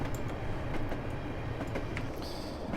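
A London Underground D78 Stock tube train in Train Simulator 2017, on the District Line between Richmond and Earl's Court, gives a steady rumbling roll with light clicks and squeals from the wheels, heard continuously from the cab with no talk.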